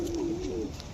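A single low, throaty pigeon coo from a pet fancy pigeon, close and clear, drawn out for most of a second over faint background hiss.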